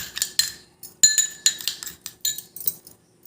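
Spoon clinking and scraping against a bowl while turmeric and rose water face pack is mixed, a series of close, sharp taps and clinks in uneven bursts with brief pauses, no voices.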